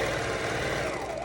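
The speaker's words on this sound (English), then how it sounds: "I'm back stitching at the ends and at the beginning just to make sure that it really tucks tight" Sewing machine back stitching the ends of fabric for a simple memory pillow, a steady continuous mechanical whir and rapid needle chatter running loud throughout with no pauses.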